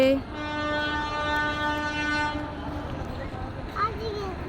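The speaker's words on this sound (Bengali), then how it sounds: "আমাদের ট্রেন এসে গেছে" An arriving train sounds a long, loud steady horn blast at a station, followed by rumbling rail noise and a voice speaking over it.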